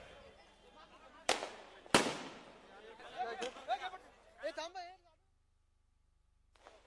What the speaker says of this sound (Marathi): फटाके वाजवणं बंद करा